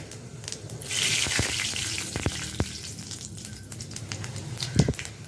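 Five-spice phoron hits hot mustard oil in a kadai and sizzles into a bright, hissing crackle that swells and then settles, punctuated by a few sharp pops and clinks of a spoon.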